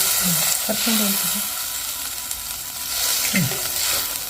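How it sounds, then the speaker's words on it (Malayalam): A pan sizzles and bubbles with a steady hiss as a sardine curry with tamarind simmers and thickens, with a few brief voice sounds over it. "ഇതിപ്പോൾ നന്നായിട്ട് തിളച്ച് കുറുകി വന്നിട്ടുണ്ട്"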